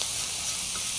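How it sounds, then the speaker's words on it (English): Butter and flour roux being whisked in a hot pan, a steady close sizzling hiss with faint stirring texture throughout, no voices. "once you get the butter and the flour in there, you need to start whisking, whisking, whisking"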